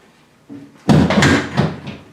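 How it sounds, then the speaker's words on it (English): A drawer in a woodworking shop, the kind that holds a wall-mounted 10-inch Delta band saw, shuts with one sharp, close thud. A short rattling rumble follows, after a faint knock just before it. "and then I close the drawer, and it's up out of the way."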